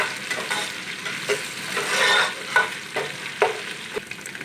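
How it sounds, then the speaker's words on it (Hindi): Green chili paste made from five green chilies fries in a pan for Chinese biryani, giving a steady close sizzle broken by several sharp scraping stir strokes, with no talk. "थोड़ा सा भून लेंगे।"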